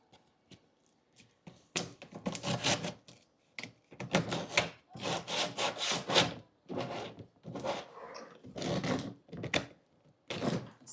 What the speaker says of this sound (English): Now we break out the sandpaper.